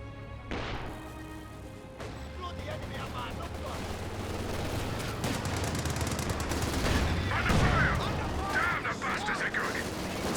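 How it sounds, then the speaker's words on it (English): Gunfire from a six-pounder anti-tank gun hitting a Panzer IV in Company of Heroes, a dense, continuous battle din of shots and crashes running under steady commentary throughout. "Six-pounder does connect on Panzer IV"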